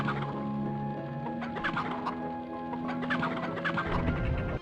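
Chickens cluck and squawk continuously in a video game's Haunted Ruins level, close and busy over a layered musical or ambient background, with no talk.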